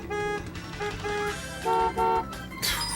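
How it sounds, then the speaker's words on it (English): Two different car horn honks from a vehicle in the Wii racing game Chrysler Classic Racing, sounding as a few short, loud electronic toots in quick succession over steady engine and game noise. "I've got this honk, this sounds like one car, and I have this honk, which sounds like another car."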